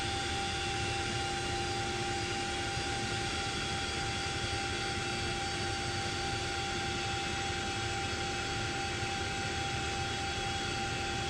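Twin-turbine CH-47D Chinook helicopter engines modeled in the X-Plane 11 flight simulator, a steady, loud, unbroken drone with whining tones, alone without talk.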